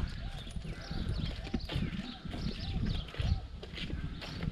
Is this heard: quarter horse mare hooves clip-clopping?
yes